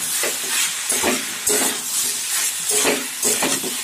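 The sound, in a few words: spices stirred and frying in oil in a pan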